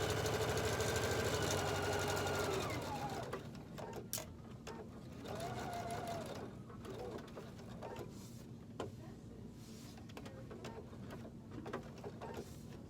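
Sewing machine stitching a cork handbag, running steadily and loud at first, then slowing into a quieter, uneven hum with intermittent clicks and stops.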